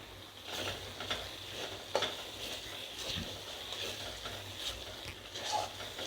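Spice paste (masala) for a chicken curry being stirred and fried in a pan, with a steady soft sizzle and repeated scraping strokes of the spoon at a moderate level, no talking.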